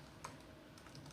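Quick soft clicks of typing on a computer keyboard, a faint close patter of a few keystrokes in a short burst with no voices.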